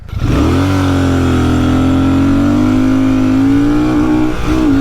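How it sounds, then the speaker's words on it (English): Motorcycle engine, either a Royal Enfield Shotgun 650 or Hunter 350, held hard against the rev limiter during a 0-60 run, a loud, steady high-pitched drone that barely wavers after a quick rise at the start. "Rev limiter. There it is."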